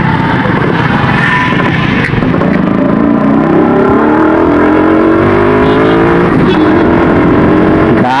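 A Yamaha RX-Z two-stroke motorcycle engine revs hard and climbs steadily in pitch while riding, loud and close throughout with wind rush and no clear talk.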